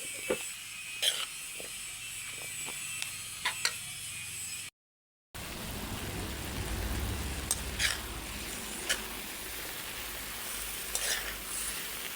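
Squash frying in a pan gives a steady sizzle with repeated scraping and clicking of a utensil as it is stirred. The sound drops out briefly before the frying continues louder.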